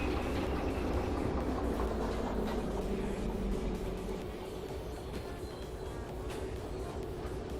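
A train locomotive in the Derail Valley game pulls away with a steady, dense rumble and mechanical clatter, holding loud and continuous with a slight easing partway through.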